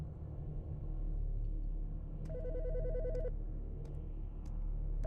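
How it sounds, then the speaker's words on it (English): A telephone rings in the Autopsy Simulator video game, a single warbling electronic ring lasting about a second over a steady low ambient rumble, with faint clicks around it. "The fucking phone."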